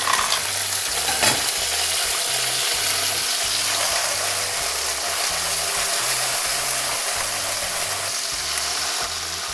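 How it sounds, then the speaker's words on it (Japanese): Cleaned clams drop into a pan of hot garlic-infused oil for a one-pan vongole rosso pasta, setting off a loud, continuous close sizzle that holds steady throughout. "ここで掃除したあさりが入ります"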